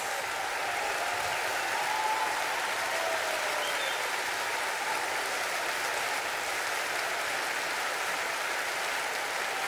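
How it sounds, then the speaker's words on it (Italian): Large audience at an orchestra concert gives long, even, enthusiastic applause, a dense continuous wash of clapping filling the hall. "Geben Sie mal einen riesigen Applaus"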